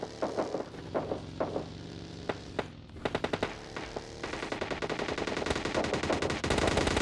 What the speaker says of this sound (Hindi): आप लोग सुन सकते हो कि इस डिस्ट्रिक्ट साइड से काफ़ी तगड़ा फायरिंग साउंड आ रहा